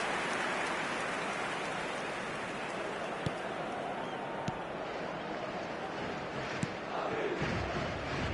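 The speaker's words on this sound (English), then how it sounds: "it certainly got the crowd going" A stadium crowd in the eFootball video game roars in a dense, steady wash of noise, broken by a few sharp clicks, with the crowd swelling slightly near the end.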